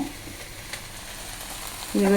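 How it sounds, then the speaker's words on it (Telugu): Steady, close sizzling of okra frying in a pan, a soft crackling hiss throughout, with a brief tonal sound near the end. "బెండకాయ కూడా ఇట్లా కలబెట్టుకుంటే సన్నసరిన వేగుతూ ఉంటుంది."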